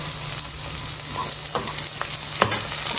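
Onions frying in a pan for a Kongu-style goat head curry masala, a steady close sizzle with scattered scrapes and clicks of stirring, no voices.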